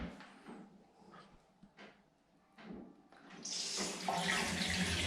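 Water gushes from an Aqualeisure overflow filler into a bathtub in a new, sleek bathroom, starting with soft clunks and swelling into a steady, loud rushing stream.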